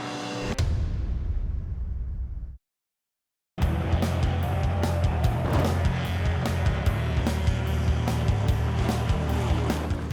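Pure stock cars race around a track in a dense, continuous engine roar. A brief dropout breaks it up, and repeated sharp clicks and rattles ride on top of the roar.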